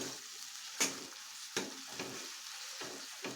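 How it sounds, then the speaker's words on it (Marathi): Ground masala paste sautéing in a pan for soybean curry, a soft sizzle broken by several sharp spoon scrapes and stirs at irregular intervals, no talking. "आता ही पेस्ट आहे ती परतून घ्यायची"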